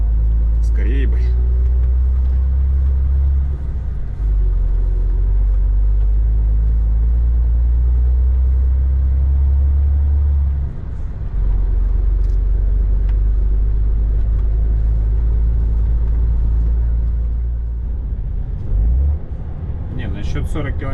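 A car creeps slowly along a rough road toward a wooded stretch at about 25–30 km/h, its steady low engine rumble loud and close throughout, with a few brief knocks and rattles.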